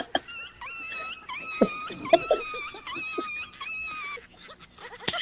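A human voice imitates a whimpering puppy, with a run of high, wavering whines and moans broken by short sharp yelps, fairly close and quiet.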